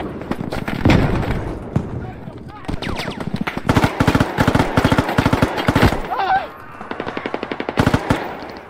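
Rapid bursts of automatic gunfire mixed with heavy blasts, including a grenade explosion, crackle loud and close in a military video game battle, with brief pauses between volleys.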